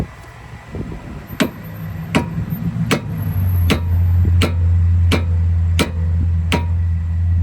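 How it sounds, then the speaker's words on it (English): Eight sharp metallic taps land on the back of a screwdriver as a sledgehammer works to free a rusted screw on a 2011-2016 Hyundai Elantra's front brakes, struck about every three-quarters of a second over a low steady hum. "I'm just gonna tap the back of this screwdriver to help break any rust free"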